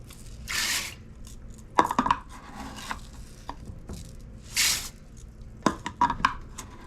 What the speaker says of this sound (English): And our 4 cups of rice.